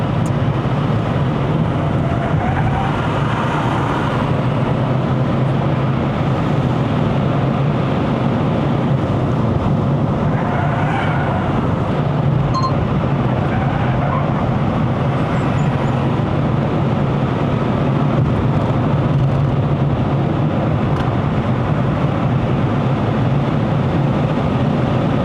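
A 2024 Proton S70 Flagship X climbing a mountain road, heard from inside the cabin as a steady, loud engine and road drone with tyre rumble that holds evenly and unbroken throughout.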